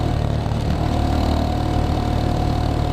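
A Geon X Road 250 motorcycle engine runs steadily during a ride through city streets, a constant close drone mixed with road and wind noise, with no speech over it.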